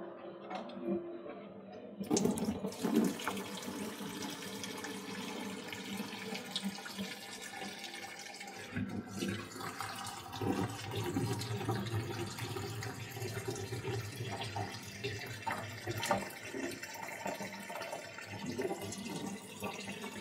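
Water gushing and draining steadily from a hose popped off a domestic gas boiler during a repair, a continuous splashing flow lasting the whole stretch after a brief quiet start, with occasional metallic clinks.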